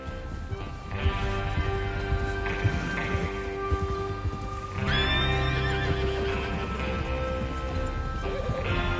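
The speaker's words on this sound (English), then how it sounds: "Get your horses ready." Horses in the Red Dead Redemption 2 video game whinny loudly over steady clip-clopping hooves, with a sharp neigh standing out midway through the scene.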